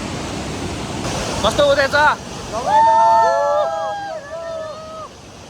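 A waterfall and flowing river on a rainy trek to Panch Pokhari in Sindhupalchok, a steady broadband rush of water under people talking nearby.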